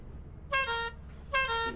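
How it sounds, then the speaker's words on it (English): Two short, bright horn honks in the video game Lethal Company, each lasting about half a second with a pause between them, loud and close with no talking. "Don't honk your shit at me!"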